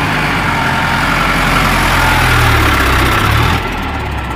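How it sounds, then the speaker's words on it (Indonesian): A toy military truck plays a recorded engine sound: a loud, low idling rumble that swells a little midway, then drops off suddenly near the end. "Ini ada truk militer teman-teman."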